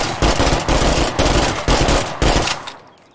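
Burst fire from the screamer gun in State of Decay 2, several loud, rapid bursts of shots in close succession that end in a fading tail.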